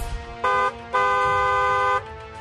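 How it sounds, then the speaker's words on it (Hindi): A vehicle horn honks twice, a short toot followed by a longer sustained blast, loud and near against faint background noise. "हॉर्न बजाना जरूरी है।"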